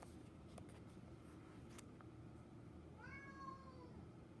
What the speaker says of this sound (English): And that's a cat.